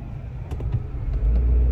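Steady low rumble of an old rental car driving along a road, heard from inside the cabin, with a constant engine and road drone that swells slightly near the end.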